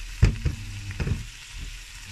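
Prawns sauté in a hot frying pan, giving a close crackling sizzle broken by a few quick stirring scrapes and knocks.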